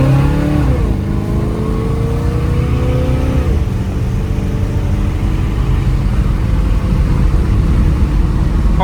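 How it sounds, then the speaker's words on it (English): A 1956 Chevrolet Bel Air engine revs up and accelerates steadily, its pitch rising and falling through gear shifts, loud and close throughout with no voices. "We'll cut the air off just so you can hear the motor while we're taking a drive"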